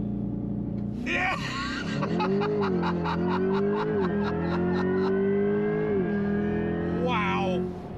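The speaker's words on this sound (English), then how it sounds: "Here's a quick snippet of what it sounds like under acceleration." A 2024 Chevrolet Corvette E-Ray accelerates hard, its engine note rising and holding as it climbs through gears, loud and close, while a person whoops and laughs over it.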